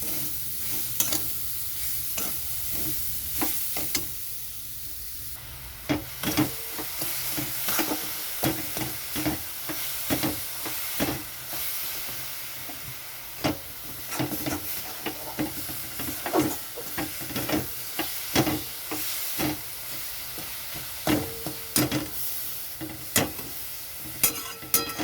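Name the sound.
stirring grated coconut with sugar in a pan for filling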